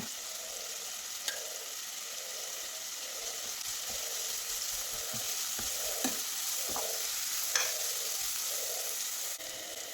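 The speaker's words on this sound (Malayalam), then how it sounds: "പിന്നീട് ഒരു 8 അല്ലി വെളുത്തുള്ളിയും കൂടി ചതച്ചെടുത്തിട്ടുള്ളതാണ്, അതും കൂടി ഇട്ട് കൊടുക്കുന്നുണ്ട്." Eight crushed garlic cloves and ginger fry in a pan for an egg curry, giving a steady close sizzle with stirring scrapes and occasional sharp pops, no voices.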